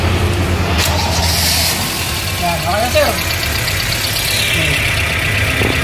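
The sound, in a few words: Toyota Corolla engine starting and idling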